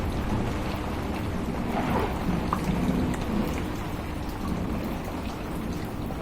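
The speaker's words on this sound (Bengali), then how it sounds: "দেখো জোর বৃষ্টি হচ্ছে জোর বৃষ্টিতে দেখো জলে জলাময় পুরো এখানে" Heavy nighttime rain pours down steadily and loudly onto surfaces nearby, with low rumbles of thunder rolling beneath the dense, unbroken downpour.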